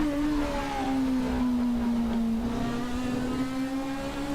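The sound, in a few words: turbo race car engine in a racing simulator game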